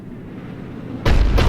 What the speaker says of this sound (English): Looks like Cerberus got that cannon operational, Commander.